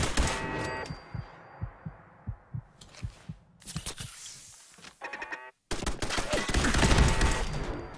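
Automated turrets open fire in Fallout 4 with rapid bursts of loud, thumping shots separated by short pauses, ending in a heavier, sustained barrage.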